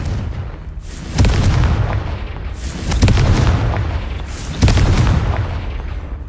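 Three heavy booming blasts from the Confringo spell in Hogwarts Legacy, spaced a couple of seconds apart, each loud with a rumbling tail that fades before the next.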